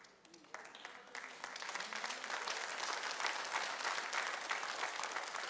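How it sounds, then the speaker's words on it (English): A church audience claps politely, starting sparse and quiet then building into steady, moderate applause that continues to the end, with faint voices underneath. "See, y'all are still golf clapping me"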